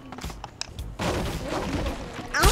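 Gunfire from a three-round-burst weapon in Fortnite, with a dense stretch of loud, overlapping shot reports and thumps after a quieter opening. Speech-like sound is mixed in.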